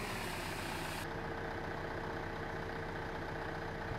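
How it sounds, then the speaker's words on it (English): A steady engine drone from a tractor in the video game Farming Simulator 2015 runs throughout. It is low and continuous as the revs rise while a tipper ram extends, loud and alone with no voices. "You can hear the revs just increase as the tipper ram"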